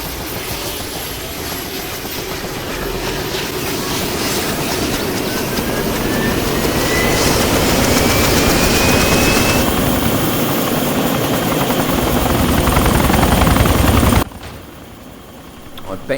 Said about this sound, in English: nothing will go wrong while I'm flying this chopper